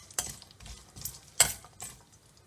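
Ginger, green chili and curry leaves fry in a pan for Karnataka-style avarekai uppittu, a quiet sizzle broken by a few sharp scrapes and clinks of a spoon stirring against the metal.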